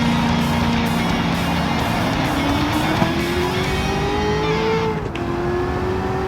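Corvette race car in the racing game Gran Turismo 7, its engine loud and close, revving with a rising pitch for several seconds before a sharp drop at a gear change, then pulling again.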